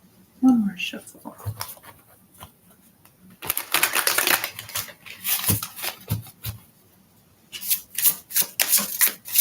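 Rapid riffling bursts of tarot cards being shuffled, several quick runs separated by pauses, close and crisp.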